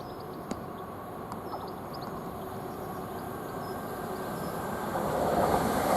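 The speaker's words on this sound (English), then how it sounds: "Now we've got a pass by train, which is the Greater Anglia train from Norwich to London Liverpool Street" A Greater Anglia class 745 electric train on the Norwich to London Liverpool Street line runs past Chelmsford station, a steady broadband rumble swelling louder toward the end, with faint clicks and no talking.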